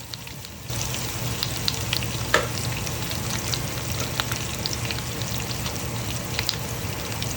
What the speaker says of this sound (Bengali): কড়াইতে নারকেল তেলে মেথি সর্ষে মৌরি ফোড়ন দিয়ে